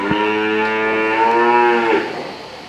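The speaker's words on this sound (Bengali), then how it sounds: "এটা কিন্তু অনেক বড় সাইজের গাভী।" A large dairy cow, heavily pregnant and in milk, gives one long, loud, close moo at a dairy farm in Mohammadpur, Dhaka, rising and then sliding down before it fades.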